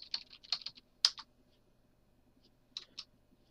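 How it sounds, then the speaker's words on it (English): Quiet bursts of key clicks as someone types on a computer keyboard, a quick cluster of taps, a pause, then a few more strokes, close and soft. "I'll just type something in"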